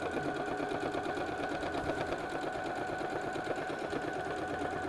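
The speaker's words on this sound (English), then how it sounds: "I back stitched, just sewing that 1/4 inch all the way" A sewing machine runs a quarter-inch seam attaching quilt binding, a steady, close whirring hum with rapid needle ticking and no pauses.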